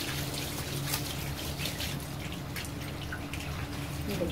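Water drips and trickles steadily from a washed blanket set out to drain, a dense continuous patter with no talking.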